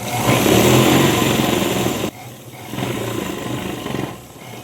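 A sewing machine stitching a pant seam, running with a loud continuous motor whir that stops briefly and then resumes more quietly.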